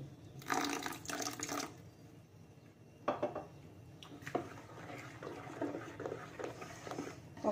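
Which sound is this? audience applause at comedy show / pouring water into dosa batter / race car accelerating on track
pouring water into dosa batter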